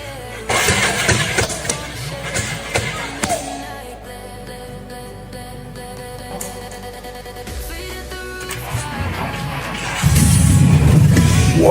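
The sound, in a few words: 1970 Jeep engine starting up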